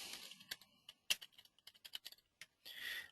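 Brisk, close computer-keyboard typing in short irregular bursts as a group name is entered into a form, ending in a denser flurry of keystrokes.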